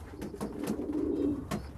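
Pigeons coo softly at a pigeon and squab market, a few short throaty calls close by in a brief burst without talk.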